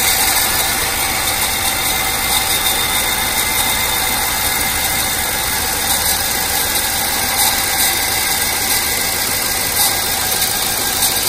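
Chevy Avalanche truck engine with a cylinder 3 misfire running rough, a steady close idle drone with an uneven rumble and mechanical chatter, constant throughout with no talking.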